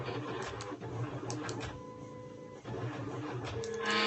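A Silhouette cutting machine cuts out journal cards, its motors whirring steadily and its carriage shuttling back and forth in a mechanical, printer-like buzz with faint tonal whines at close range.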